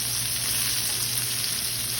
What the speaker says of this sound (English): I heard a loud applause of sizzle when I put the meat in